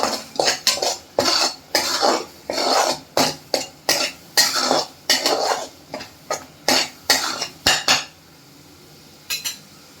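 Spice masala fried in oil over medium heat and stirred with a spatula: about a dozen rhythmic scraping, clinking strokes against the pan, close and fairly loud, then near silence with a final brief scrape.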